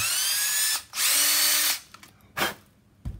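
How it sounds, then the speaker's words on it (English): A small power drill with a 3/32 bit drills through a plastic clip: two whining bursts close up, the second longer and steadier, followed by short shuffling handling noises and a brief final buzz. "The one that has the T has the 3/32 drill bit. I'm just gonna drill right through it."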